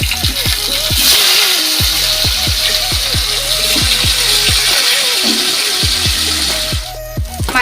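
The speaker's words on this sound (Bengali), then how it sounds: "গরম হোক, মাছগুলো ভেজে নেব।" Fish sizzles steadily in hot mustard oil in a wok, a constant bright hiss running the whole time beneath louder melodic background music.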